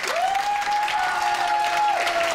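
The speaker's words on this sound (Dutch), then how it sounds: "En daar wil ik wel even een applaus voor." Audience at a Dancing with the Stars dance show finale applauding, dense steady clapping from a crowd that fills the room, with a sustained electronic tone running through it.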